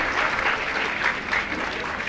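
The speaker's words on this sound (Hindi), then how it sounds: "एक बार जोर से ताली बजाओ ताकि पता लग जाए महाराज सही बोल रहा है।" An audience at a Jain monk's question-and-answer discourse claps loudly and steadily, a dense, continuous burst of applause lasting about two seconds.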